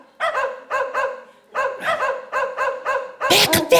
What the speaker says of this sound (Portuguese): Shhh, tem cachorro, tem cachorro!